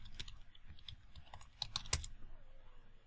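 Typing on a computer keyboard: a quick irregular run of close, soft key clicks with one sharper strike near the middle, quiet and with no talk.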